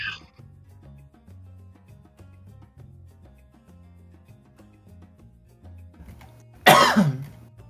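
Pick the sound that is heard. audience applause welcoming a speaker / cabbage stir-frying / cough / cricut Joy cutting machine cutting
cough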